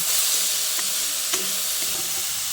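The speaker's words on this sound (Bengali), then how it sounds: "আলুটা দিয়ে শাকের সঙ্গে ভালো করে নেড়ে চেড়ে মিশিয়ে নিচ্ছি" Radish greens mixed with potatoes are stirred in a hot pan: a steady close sizzle with a few soft scrapes of the spoon against the metal, no voices.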